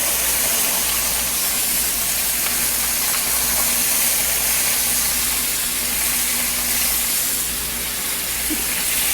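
Shrimp and scallops sauté lightly in a pan for a Cape Cod lobster bouillabaisse, giving a steady, even hiss and sizzle that holds at one level throughout, with no talking.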